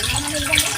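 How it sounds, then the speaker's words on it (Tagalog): Water gushes hard from a pump outlet that pushes it up a high mountain to fill a 500-liter tank: a dense, steady, close rushing splash with no pauses. "volume ng tubig na ibinubuga ng pump"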